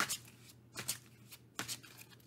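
Tarot cards being shuffled by hand, with three brisk riffling bursts separated by short pauses, close and fairly quiet, no talking.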